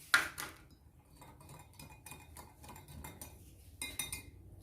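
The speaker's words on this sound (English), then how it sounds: "Now I'm going to start mixing." A whisk stirs a flour mixture for dinner rolls in a bowl, with close metallic clinks and scraping against the bowl, a sharp knock at the start and a louder burst of clattering near the end.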